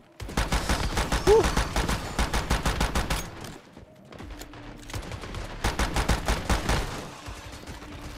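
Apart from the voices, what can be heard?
turrets firing in a video game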